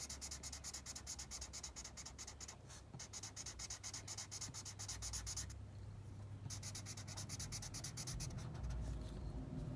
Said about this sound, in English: I'm going to be using markers to color in my eggs and my chicks